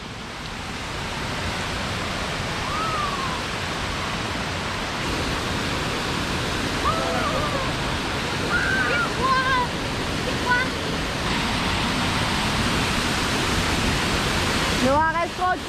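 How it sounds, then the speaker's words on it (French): Waterfalls rush in a constant loud white-noise roar, close by, while children's and adults' voices and a few short calls cut through faintly over the water. "je vous laisse découvrir la beauté des cascades"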